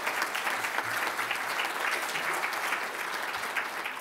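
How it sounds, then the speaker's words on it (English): Audience at a Civil Service Live quiz event applauding two contestants, dense sustained clapping from a large crowd, loud and even throughout, with faint voices mixed in underneath. "Let's applaud both Terry and Fiona."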